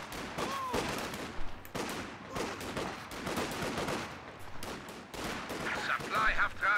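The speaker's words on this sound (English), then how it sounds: "here comes the 50 cal." A .50 cal machine gun firing in Company of Heroes 2, bursts of rapid gunfire repeating in rhythmic clusters amid other battle effects, with game sounds and commentary voices underneath.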